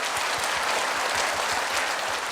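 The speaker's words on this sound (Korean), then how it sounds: "박수 부탁드립니다" A lecture audience in a hall breaks into dense, sustained applause to welcome a philosophy professor, loud and even with no talking over it.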